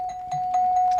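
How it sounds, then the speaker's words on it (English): On a 1974 TV game show panel, a steady electronic bell tone rings throughout over light studio noise, brief and fairly loud. "All right, we have got ourselves a bell."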